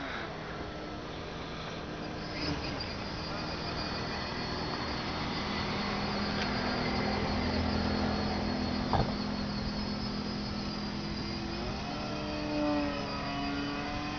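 Radio-controlled model Supermarine Spitfire airplane on its first flight, a continuous buzzing engine drone that swells and eases as it passes overhead, heard fairly close and alone.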